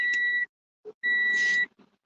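Phone warning beeps for a nearly dead battery, two sharp electronic tones separated by a short gap, close and clear with no talk.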